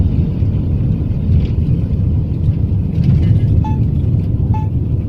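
Car interior while driving from Austria toward the German border: a steady low engine and road rumble with two brief beeps from the dashboard.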